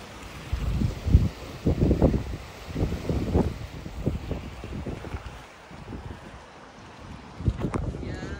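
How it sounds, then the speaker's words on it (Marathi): Sea waves slosh and surge in repeated bursts, crashing against the walls of Sindhudurg Fort in Malvan, with a steady rush of wind noise on the microphone throughout; no clear voices. "तुम्ही बघू शकता पाण्याचा जे लाटा आहेत ते किती फोर्सने आपटतात"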